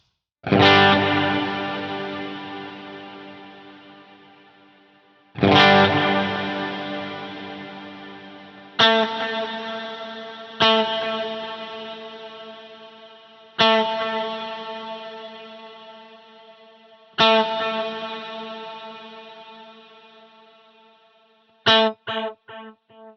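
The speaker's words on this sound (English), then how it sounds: "if you wanted to just kind of get a little bit of that, like your reverb or your delays going into the front end of an amp, kind of a crushing tone" Guitar through a Line 6 HX Stomp with ambient reverb, delay and noisy distortion, played as a handful of loud, struck chords, each swelling and decaying in a long washy tail, ending with a few quick stabs.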